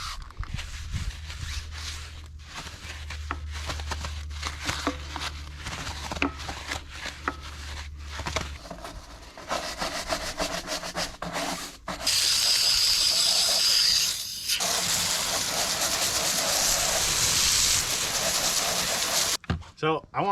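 Wheel cleaner sprayed onto a very dirty tire on a 4x4, with long loud hissing spray bursts, the longest lasting about seven seconds and running close to the mic, and shorter bursts and handling noise before them.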